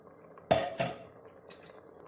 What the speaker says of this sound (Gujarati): હવે કુકરનું ઢાંકણું બંધ કરીશ.